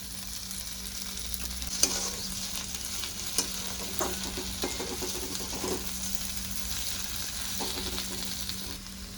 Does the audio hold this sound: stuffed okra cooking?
yes